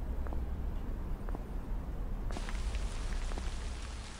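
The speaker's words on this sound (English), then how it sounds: "Oh man, it's raining again." Steady rain falls in the video game Tsugunohi, a soft continuous patter on surfaces with a few scattered drops standing out, alone with no voices.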